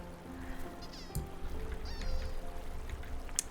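Small duck calls in the puzzle game Babbling Brook, a few short bright honks and quacks scattered over a quiet bed of game ambience, fairly faint and close.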